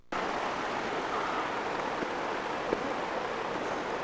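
A river flowing downstream in Zion or Bryce, a steady broadband rush of water, constant and fairly loud, with small splashes and no voices.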